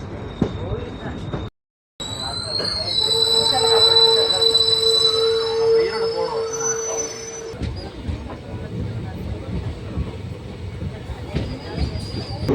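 A passenger train made up of ICF coaches, running on a Coimbatore MEMU route, rumbles loudly nearby with squealing wheels and a sustained high tone, while a crowd murmurs in the background.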